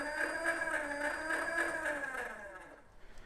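A Tesla Cyberquad's electric motor runs forward, a whining tone with stacked harmonics that holds steady and then winds down and fades out near the end, faint and close with no talking.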